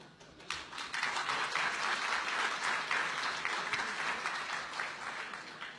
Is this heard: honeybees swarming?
no